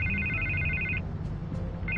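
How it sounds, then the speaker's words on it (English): Telephone ringing in The Batman Telltale video game: a repeating electronic ring tone in two bursts separated by a pause, steady and fairly loud over a low rumbling ambient background. "I can't get the phone to stop ringing"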